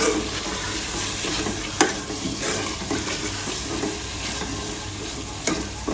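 Chicken and daal mash lentils being stir-fried in a pot, a steady loud sizzle with scraping spoon strokes and a couple of sharp clanks against the metal.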